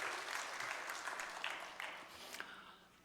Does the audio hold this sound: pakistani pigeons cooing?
no